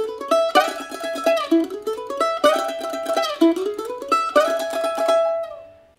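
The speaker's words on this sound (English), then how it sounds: "And played at tempo, that will sound something like this." A mandolin plays a fast tune at tempo with a steady down-up picked tremolo, bright plucked notes in clear phrases that rise and fall, played alone and fading out at the end.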